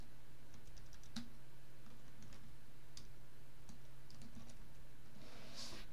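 Quiet, irregular keystrokes tap on a computer keyboard, scattered clicks spaced apart over a faint steady hum, with no voices.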